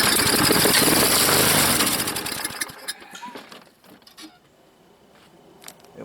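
An old self-propelled lawn mower engine that is not yet drawing gas through the carburetor briefly sputters and runs roughly, then dies away. Scattered clanks and taps follow in near quiet.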